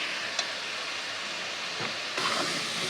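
Chicken pieces frying in a pan with spices for a potato chicken curry, a soft continuous sizzle with a few faint clicks and a brief stir toward the end.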